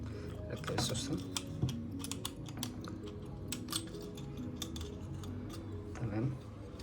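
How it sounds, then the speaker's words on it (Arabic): Small metallic clicks, taps and scrapes come up close as a spring is fitted while reassembling a Zoraki 918 blank pistol, an irregular patter of light mechanical sounds over a low murmur of voice. "تمام، ثم نركب السوستة"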